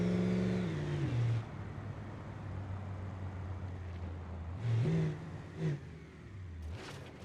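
A 6x6 2022 Ram 2500 Baja off-road build in BeamNG.drive holds a steady engine drone, rising into short revs several times as the throttle is pushed, heard alone and near.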